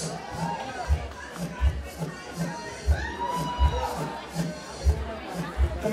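Lively crowd at an art show event cheering and chattering with shouts as artist Amber Brady comes out, a steady babble of voices over a pulsing bass beat in the room.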